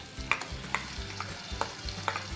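Onion and ginger garlic paste being sautéed in a pan, a steady soft sizzle under repeated rhythmic stirring strokes and light spatula taps against the pan, close and fairly quiet, no voices.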